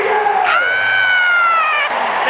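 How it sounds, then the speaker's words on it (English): Arena crowd at the BRIT Awards 2017, roaring and cheering with a high sustained whoop riding over the massed voices, loud and continuous. "we get the applause going"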